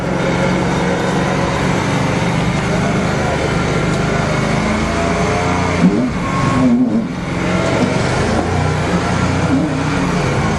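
A 427 engine in a dump truck stuck in mud, revving hard and loud in a steady, strained roar with a brief dip partway through, and a voice speaks over it.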